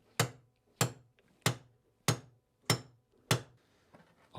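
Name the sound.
hammering to punch out trunk handle nail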